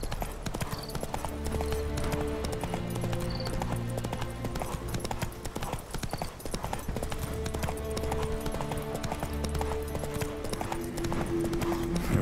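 Horse hooves gallop steadily in The Witcher 3, an even, rhythmic clip-clop of a ridden horse over loud ambient game music, with no pauses across the run.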